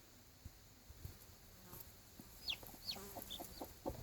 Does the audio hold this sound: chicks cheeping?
yes